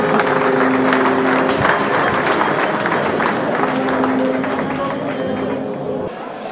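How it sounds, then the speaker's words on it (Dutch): Audience applause at a New Year reception, a dense steady wash of clapping that stays loud throughout and eases slightly toward the end, with a sustained tonal hum running underneath. "APPLAUS."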